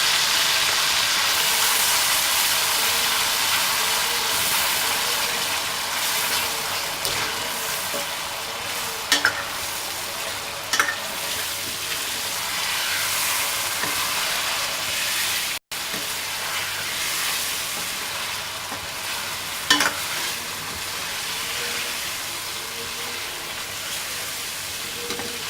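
Ginger, garlic and green chilli paste sizzles steadily in a hot pan, a continuous broad frying hiss with a few small clicks and pops, close and alone without talk.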